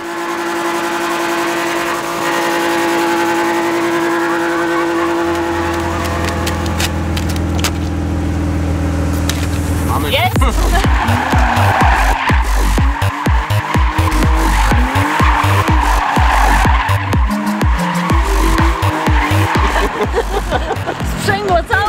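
A car at a wedding accelerates hard and skids, its engine rising from a steady drone into loud, choppy revving with tire noise, and people speak over it.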